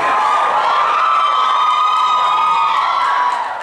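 Loud, continuous audience cheering and shouting from a crowd at a Matoaca High School girls show choir performance, holding steady throughout before easing slightly at the end.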